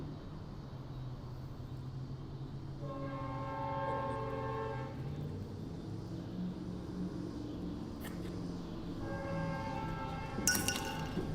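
CSX northbound freight train with ES44DH, ES40DC, SD40E3 and GP40-3 diesel locomotives passing as its horn sounds two long blasts, rumbling wheels and clanking cars beneath, heard from trackside at moderate distance.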